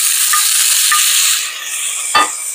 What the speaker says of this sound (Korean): 아까 우리 전자레인지 돌린 요 감자를 한번 넣어 볼게요